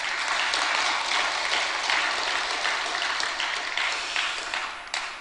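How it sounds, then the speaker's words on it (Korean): A church congregation breaks into sustained clapping after early-morning worship singing, a full, steady round of applause that thins slightly near the end, with no talking over it. "역시 박수"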